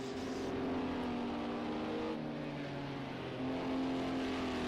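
A race car in a sim racing game pulls into the pits during an endurance round at Sakitto GP, its engine droning steadily with shifting pitch as it slows and then picks up again, alone without talk.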